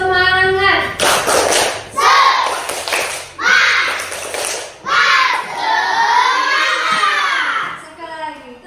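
A class of children claps the 'tepuk semangat' rhythm together, sharp rhythmic hand claps in quick bursts mixed with their loud chanting voices, close and lively.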